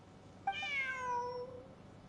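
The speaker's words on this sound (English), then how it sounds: "A cat." A cat in Genshin Impact gives a single clear, drawn-out meow, bright and close, sliding downward in pitch before trailing off into quiet background hum.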